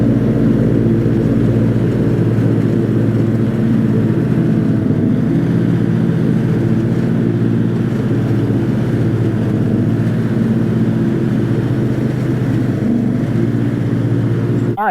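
A lawn tractor drives in a tight circle with its front wheel turned fully to the left. Its engine holds a steady, loud, even drone that runs through the whole stretch, with no talk over it.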